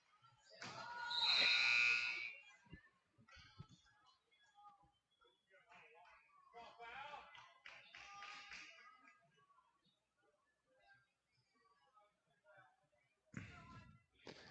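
An end-of-game buzzer sounds at a girls' high school basketball tournament championship. It comes as a loud, harsh tone near the start and again near the end, with sparse gym noise and a commentator talking between the two.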